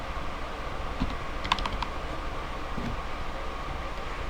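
A handful of crisp computer keyboard keystrokes tapped out in a brief cluster while a form is filled in, fairly faint over a steady room hum, with no one talking.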